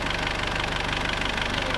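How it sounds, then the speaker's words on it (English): A sailboat's inboard engine running, a close, steady mechanical thrum with a quick knocking rhythm and no voices over it. "We let the engine run for a good 15 minutes"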